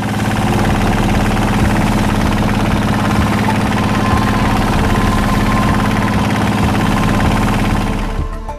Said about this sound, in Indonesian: memaksa kami menggunakan jasa motor tempel untuk menuju lokasi pertambangan